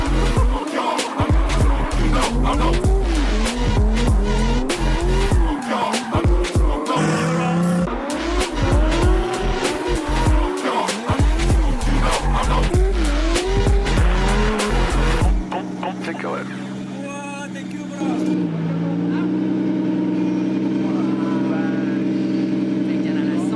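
Loud drift cars in an underground Vietnamese custom car scene, engines revving and wailing with repeated tire squeals and skids, giving way to a steady engine drone near the end, with speech mixed in.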